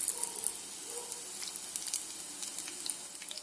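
Potato snack dough, pressed into hot oil in strands, fries toward a reddish crisp with a continuous close sizzle and light crackling, no voices over it.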